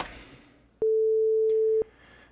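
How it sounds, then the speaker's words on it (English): A single steady pure tone holds at one pitch for about a second, starting and stopping abruptly, with faint room hiss before and after. "I've got the sine wave that I recorded a little while ago"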